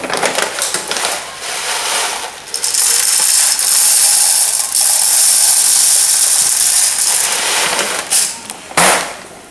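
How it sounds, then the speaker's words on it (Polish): A ratcheting mechanical whir from winding the spring of a high-capacity magazine for an AK-4RIS airsoft M4 after loading BBs, continuous rapid clicking that runs loud and close for several seconds with brief pauses near the end. "Wsypujemy kulki i podkręcamy sprężynę, która nam te kulki podaje."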